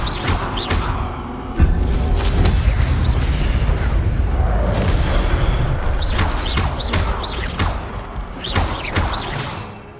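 Spell effects from the wizarding game Hogwarts Legacy, with a Levioso casting among booming, crashing impacts and bursts, loud and repeated in quick clusters over continuous combat noise.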